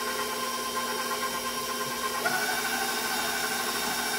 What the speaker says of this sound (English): So we'll continue beating that in